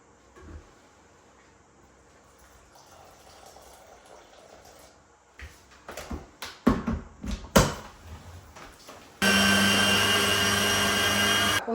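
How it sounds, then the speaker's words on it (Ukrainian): A few clicks and rattles, then a small coffee grinder starts grinding buckwheat with a loud, steady high-pitched whir that continues to the end. "Я буду на кавомельці це робити"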